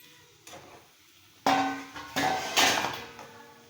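Peanuts are tipped into a pan of melting sugar and then stirred, giving a few loud, close clatters and scraping clangs of metal and nuts against the pan.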